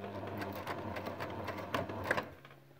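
A sewing machine stitching a few points on a fabric mask, with a quiet, rapid mechanical whirr of needle strokes that rises toward a couple of sharper clicks near the end, then stops.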